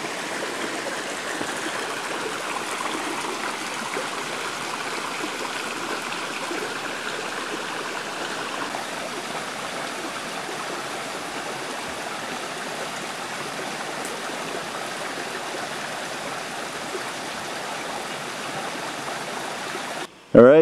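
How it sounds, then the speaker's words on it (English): A tributary stream of Johns Brook on a hiking trail to Big Slide rushes and gurgles close by in a steady, even wash of water, with a brief louder knock at the very end. "There's a nice tributary to the Johns Brook."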